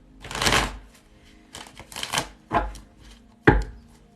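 A deck of tarot cards is shuffled by hand during a live reading, coming in several short, crisp riffling bursts separated by brief pauses, close and fairly loud.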